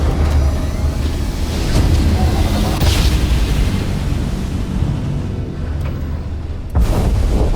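Enemy ships exploding in the Starfield space game, a deep rumbling boom and roar under constant engine drone, loud and sustained with a few sharper bursts.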